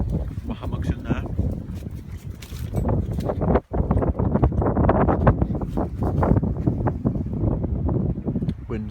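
Strong wind buffets the microphone at a winter hammock camp, loud gusty rumbling with rustling bursts throughout, with a voice speaking over it.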